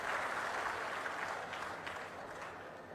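Audience applause at a political speech by Chief Minister Chandrababu at Narsannapet: a steady, dense wash of many hands clapping from a large crowd, holding even and fairly loud for the whole stretch before easing slightly at the end.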